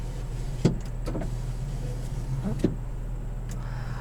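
Power rear window of a 2018 Toyota Tacoma TRD Sport hums over a steady engine idle, with a few sharp clicks as it starts and stops, close inside the cab.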